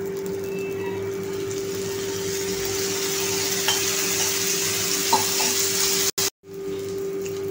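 Mung bean dosa frying in a little oil on a pan gives a steady, close, fairly loud sizzle that runs without letup, with a faint hum underneath and a brief cutout near the end.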